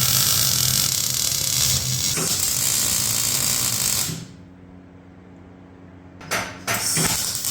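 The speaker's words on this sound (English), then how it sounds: "Here we're just welding the front bumper plate back on." Welding a front bumper plate back onto a vehicle chassis in a workshop, a loud continuous crackling hiss for about four seconds, then a pause and a brief second burst.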